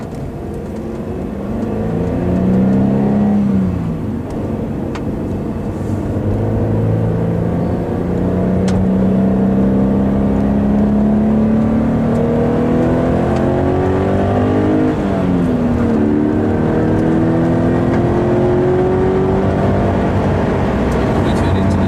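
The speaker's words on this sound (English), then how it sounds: "We'll drive up to the circuit." A car driving up toward the chicane of a test circuit, engine droning steadily and rising in pitch through the gears, loud and close from inside the cabin, with people talking over it.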